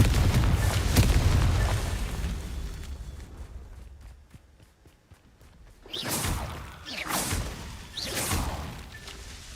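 Blasting-spell explosions in the video game Hogwarts Legacy: a loud opening boom with rumbling debris, a quieter stretch of rapid ticking, then several more whooshing bursts in quick succession.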